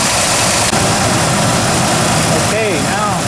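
Warmed-up car engine idling steadily after Marvel Mystery Oil treatment, the lifter tick now gone, a loud continuous rumble throughout with a brief higher whine near the end.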